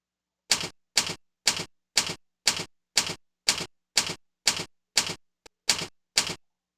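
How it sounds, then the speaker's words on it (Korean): A typewriter sound effect plays in a presentation animation: about ten crisp, evenly spaced keystroke clacks, one every half second, with a tiny tick near the end. The clacks are close and clear, with no voices. "타자기로 바꿀게요."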